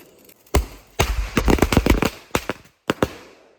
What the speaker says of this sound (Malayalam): ഇവിടെ എല്ലാവരും എന്താ പടക്കം പൊട്ടിച്ചുകൊണ്ടിരിക്കുകയാണ്